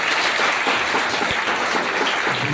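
An audience claps steadily and densely to welcome a guest at an event, a loud, sustained round of applause with no pause.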